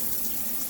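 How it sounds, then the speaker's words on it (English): A shower head runs water in a brief, steady hissing spray with no voices. "So here's the original shower."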